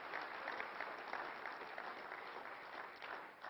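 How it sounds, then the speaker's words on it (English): A keynote audience in Las Vegas claps together in sustained, dense applause, steady and even throughout and heard from within the crowd. "give yourselves a round of applause"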